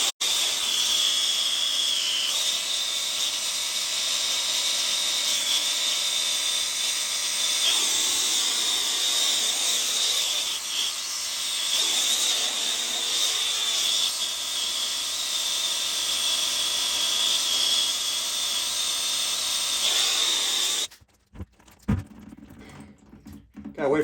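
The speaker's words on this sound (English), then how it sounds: "So now let's heat this up with a torch." A torch roars against a corroded water valve pipe in a basement, giving a steady, hissing blast that runs almost continuously before stopping near the end, followed by quieter handling noises.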